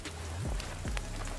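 Steady hiss of rain falling in a video game world, continuous and fairly close, with a couple of brief low swoops and faint ticks over it, no voices.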